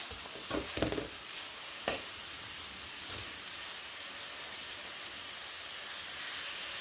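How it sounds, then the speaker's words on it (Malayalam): Winged bean stir-fry cooking on low flame gives off a soft, even hiss, with a few brief stirring scrapes and one sharp knock near the start, then quiet sizzling alone. "ഇനി ഇതൊന്ന് തുറന്ന് നോക്കി ഒന്ന് ഇളക്കി കൊടുക്കാം"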